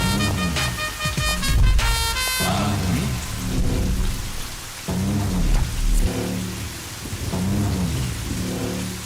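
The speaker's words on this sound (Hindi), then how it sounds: "इतना बारिश गिर रहा है, छतरी नहीं लाए हो का?" Heavy rain pouring down in a movie scene, a loud, dense hiss running throughout with deep rumbling swells layered over it.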